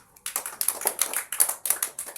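A short burst of quick, light hand claps, several people clapping unevenly for a couple of seconds after a brief pause, in a classroom lesson.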